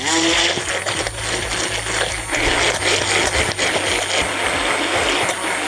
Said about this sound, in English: I'm gonna take my hand blender.